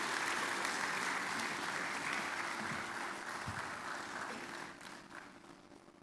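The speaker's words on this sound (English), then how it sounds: "Please, let's clap until he takes his seat." Audience applause at a business school lecture as a speaker returns to his seat, steady dense clapping that fills the room and slowly thins toward the end.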